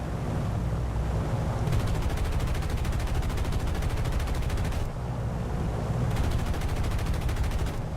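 A B-29 belly gunner firing in an air-combat video game, heard as loud, sustained machine-gun bursts rattling rapidly and continuously with a brief pause in the middle.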